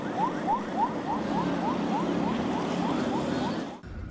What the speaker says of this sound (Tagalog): binasag ang katahimikan ng malakas na tunog ng sirena mula sa CCG vessel